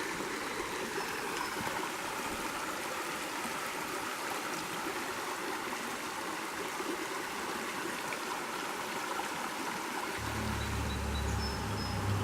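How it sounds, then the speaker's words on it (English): A small side feeder stream runs into the little rapids of Wolf Creek on a rural farm, with a steady close rush and trickle of water that continues throughout. "The little side feeder stream coming into Wolf Creek here."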